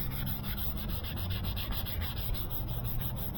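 Sandpaper rubs back and forth over a car headlight lens during restoration, a close, steady, rhythmic scratchy rasp heard alone.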